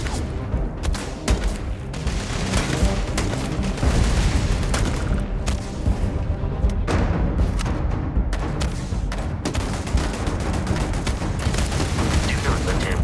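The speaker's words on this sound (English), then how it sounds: "Hell, shooting rockets." Rockets firing in the video game Starfield, a dense barrage of booming blasts and rumbling explosions with crackling gunfire, loud and continuous with no pause.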